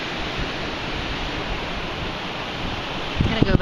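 Ocean waves and wind at the shore, a loud continuous broadband roar with wind buffeting the microphone, with a few louder gusts near the end.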